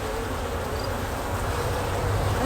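Honey bees swarming around a beekeeper's head at an open hive, a continuous close droning buzz that grows louder toward the end, with no talking.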